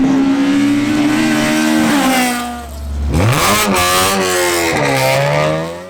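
A Honda Civic EK race car roars past at Nutts Corner circuit, loud and close, its engine revving high, dropping as it shifts, then climbing again through the gears.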